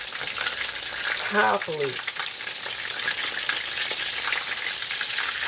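Battered chicken frying in hot oil gives a steady, close sizzle throughout, with a brief voice partway through.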